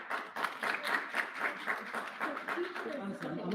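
Scattered clapping from a small audience at a school board workshop meeting, moderate and somewhat distant, runs for a few seconds with voices talking over it.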